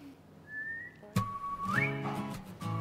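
A person whistles a few short notes, first a faint rising tone, then louder sliding and held pitches, in a quiet room with faint background sounds and no talking.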